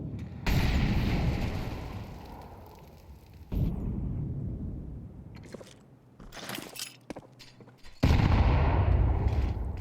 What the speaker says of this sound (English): Well-timed grenades.